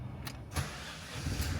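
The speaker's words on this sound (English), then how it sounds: "Engine starts nice and sounds nice." An Alfa Romeo MiTo TwinAir's engine starts from inside the car, with a couple of brief clicks and a short burst followed by a low, steady idle rumble.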